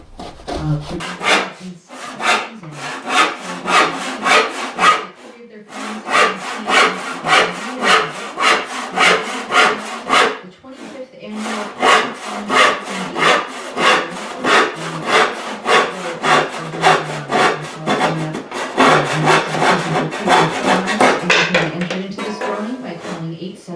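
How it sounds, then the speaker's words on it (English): A router plane cleans out the bottom of a 3/16-inch-deep wood dado in a bureau's inside panel, making a long run of steady rhythmic scraping, shaving strokes, close and loud, with a few brief pauses. "now I'm using the router plane here to clean up and get to the bottom of the groove"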